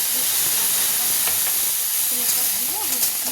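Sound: water added to vegetables sautéed with spices, steam hissing

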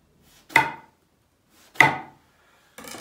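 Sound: knife cutting eggplants in half

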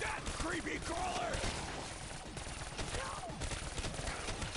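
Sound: gunfire in Call of Duty zombies video game

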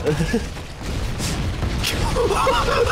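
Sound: explosion in the video game Halo: Combat Evolved

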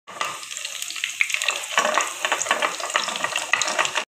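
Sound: spices sizzling in hot oil tempering

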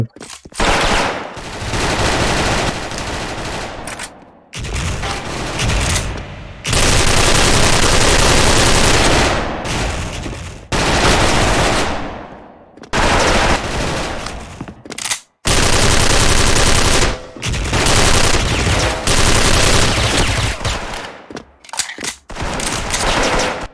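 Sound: XM8 rifle gunfire in the video game Special Force

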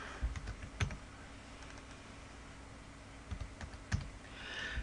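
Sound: typing a number on a computer keyboard

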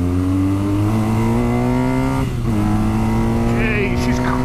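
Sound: BMW R NineT motorcycle accelerating

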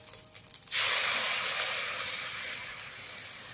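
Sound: fried rice sizzling in a pan

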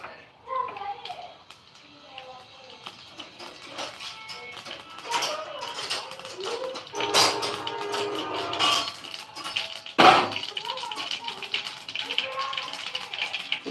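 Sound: mustard seeds spluttering in hot oil

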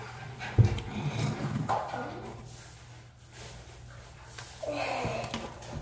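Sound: dog panting and barking

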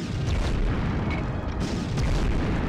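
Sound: grenade explosion in Medal of Honor video game

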